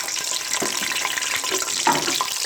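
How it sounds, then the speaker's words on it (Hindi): Boiled, peeled eggs frying lightly in a pan for an egg and potato curry, a gentle nearby sizzle with a few soft knocks and rolls as they are turned. "इन्हें हम हल्का सा फ्राई कर लेंगे ताकि इनके ऊपर एक खूबसूरत सा कलर आ जाए।"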